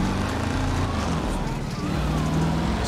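A battered car engine in GTA 5 runs with a low, rattly drone that holds constant and close for a few seconds, with faint traffic-like game ambience around it.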